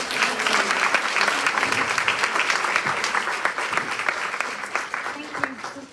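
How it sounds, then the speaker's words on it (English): Event audience applauds a panel at a community summit, many hands clapping at full strength and then gradually thinning, with voices audible beneath the applause. "let's give our panel a round of applause."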